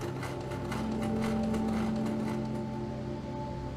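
A sewing machine stitching the strap of a homemade pigeon flight harness runs with a steady, fast mechanical chatter, close and moderately quiet, continuing evenly for several seconds without speech.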